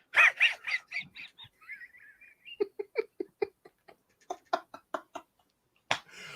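Small dog giving a few sharp, high yips close by at the start, followed by quieter clicking and tapping sounds.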